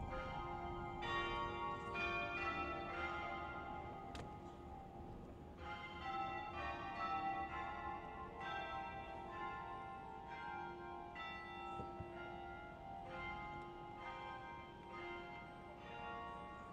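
Christ Episcopal Church bells peal in a rhythmic sequence over downtown New Bern's street ambience, moderately distant and steady, without talk.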